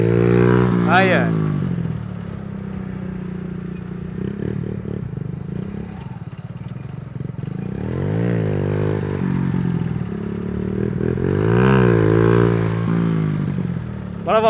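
A motorcycle engine revs in repeated rising and falling bursts during an attempted wheelie, loud and close, with clattering and scraping between throttle blips while people talk over it.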